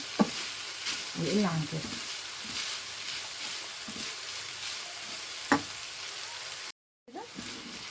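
Onions frying and being stirred in a pan, a steady sizzle with scraping and clinking stirs throughout, a few sharp knocks, and brief speech over it.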